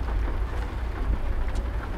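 Steady rain falls in American Truck Simulator while a Peterbilt 389 hauls lumber, a dense, constant hiss with a low rumble beneath, unbroken and fairly loud throughout.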